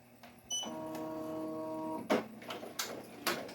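An embroidery machine starts stitching the outline of an appliqué, giving a short motor whine with a steady hum, then a few quick mechanical clacks and thumps close by.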